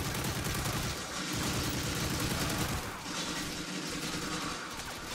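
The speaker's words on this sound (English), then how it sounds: "He's shooting at me." Gunfire in Call of Duty Modern Warfare 3 survival mode, sustained bursts of rapid shots at moderate level, the barrage thinning briefly twice before resuming.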